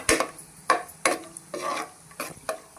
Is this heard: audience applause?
no